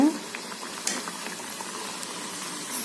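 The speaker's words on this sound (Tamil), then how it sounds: "சிம்லேயே வச்சு வேக வைக்கலாங்க இதை திருப்பி போட்டுக்கலாங்க" Coconut vadai frying in oil over a low flame, a continuous bubbling sizzle with a few brief clinks as they are turned, heard alone without talk.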